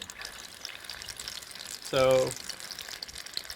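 Chicken pakoras frying in hot oil, a short burst of bubbling sizzle swelling up for about half a second after a brief spoken word, over a faint steady kitchen background.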